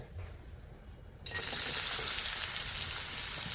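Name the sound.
onion frying and being stirred in a kadhai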